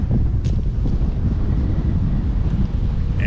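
Wind buffeting the microphone while cycling along a Florida Keys road, a constant, loud low rumble with steady turbulence and faint rustles throughout.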